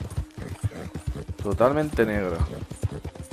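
Horse hooves clip-clopping at a steady walking rhythm in the Red Dead Redemption 2 video game, with someone talking over the footsteps throughout.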